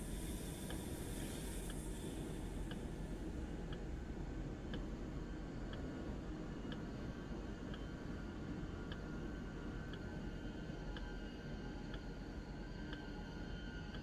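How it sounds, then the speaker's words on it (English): Steady low train rumble from a Train Sim World 5 locomotive on the Frankfurt–Fulda route, a continuous broadband drone with faint regular clicking ticks, running alone without talk. "I hope you can hear me fine over the sound of the train"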